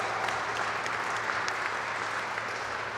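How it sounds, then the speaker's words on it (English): Applause for the Metro North president at an MTA news conference: a steady, dense clapping from a room of people, continuous and moderately loud throughout. "she gets a little extra applause because it's her house, right here."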